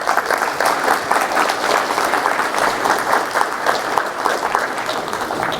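Audience applause at a community event on Islam, sustained and dense for several seconds with no speech over it.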